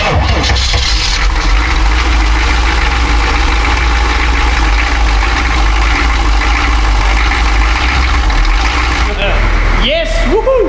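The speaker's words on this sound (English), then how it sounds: "As you can see, the Chevy is running very nicely." A Chevy van's 6.2 diesel engine idles steadily right after starting, a loud, continuous low rumble with a brief mechanical rattle near the end.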